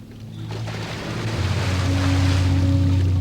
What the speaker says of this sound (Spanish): En el lago Ness, Ivor Newby tiene hasta un coche anfibio.